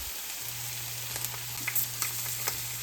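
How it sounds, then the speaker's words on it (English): Hot peppers blister in a pan for hot sauce, giving a steady close sizzle with scattered sharp pops and crackles over a low constant hum. "I like to wait for them to start popping and then stir them around"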